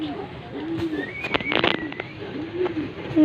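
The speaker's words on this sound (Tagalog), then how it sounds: "At ngayon po papakita na po natin ng ating kalapati." Pigeons coo softly in repeated low rolling calls, close by, with scattered clicks and faint background noise around them.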